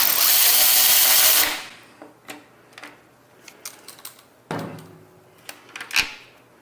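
A power tool whirs loudly for about a second and a half while removing Torx 27 bolts from a carbon fiber license plate frame, then comes a run of small clicks and taps from handling the plate and bracket.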